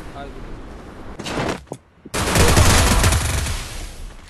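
In the mobile battle-royale game Free Fire, gunfire comes from an enemy above: loud, dense bursts of rapid automatic shots, a brief lull, then a sustained heavy volley.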